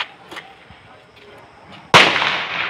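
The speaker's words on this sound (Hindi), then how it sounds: "देखिए गाइस पटाखा" A single sharp firecracker bang at a Diwali celebration outside a Kali temple in Araria after a quiet moment, loud and close, its crackling burst trailing off briefly.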